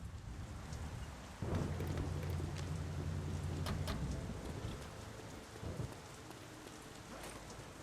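Steady rain in the video game The Saboteur, a dense continuous hiss with a low rumbling swell like distant thunder partway through, no talking.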